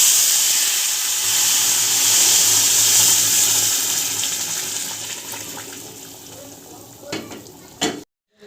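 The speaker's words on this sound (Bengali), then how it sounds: "এখন আমি এর মধ্যে জল দিয়ে দিচ্ছি," Hot water is poured into rice frying in a pot for Basanti pulao, giving a loud, steady hiss and sizzle that slowly fades, followed by a few clinks and knocks at the end.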